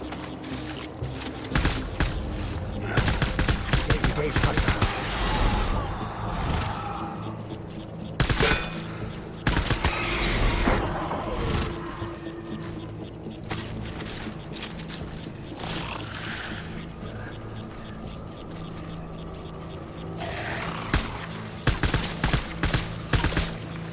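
Gunfire in the video game Death Stranding, with repeated volleys and rapid scattered shots crackling over a dense, rumbling battle backdrop for the whole stretch, loud and close with brief lulls between bursts.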